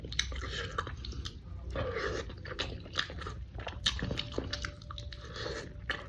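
Someone bites and chews carrot, giving repeated crisp crunches in an uneven rhythm, close and fairly quiet, with a faint background tone partway through.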